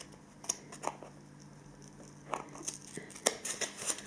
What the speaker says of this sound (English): you very carefully using a pair of sharp scissors, you need to snip the circle just there